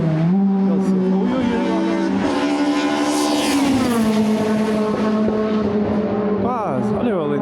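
Race cars on the Vila Real street circuit roar past close by, one engine note holding loud and then sweeping down as the car passes, with more engines following and a rising rev near the end, all continuous and dominant.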